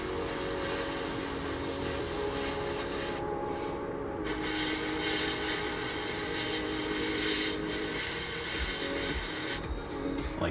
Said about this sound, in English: So I'm going to spray paint this also.